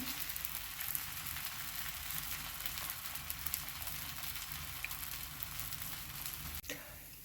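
Thalipeeth flatbread frying in a pan over medium heat, a soft continuous sizzle and crackle with a brief clatter near the end.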